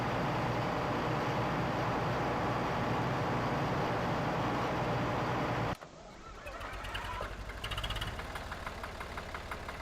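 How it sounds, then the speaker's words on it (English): A modded tractor engine in Farming Simulator idles with a dense, steady rumble, then the sound abruptly shifts to a thinner, lighter mechanical chugging for the last few seconds. "That idle is kind of how one of the tractors I use in real life sounds"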